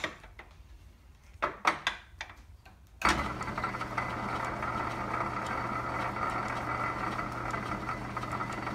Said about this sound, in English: Popped out a back gear, that's why it's just spinning freely.